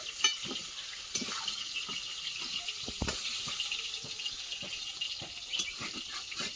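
Fish frying in hot oil in a home kitchen, a soft sizzling hiss broken by repeated light taps and clinks of a spatula against the pan.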